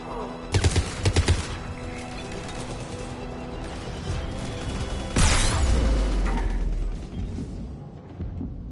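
Gunfire erupts in the Mass Effect 3 video game: a short burst of rapid shots early, then a heavier blast or volley midway, over a steady background of battle noise and game sounds.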